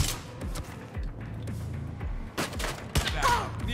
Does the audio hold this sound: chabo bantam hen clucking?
no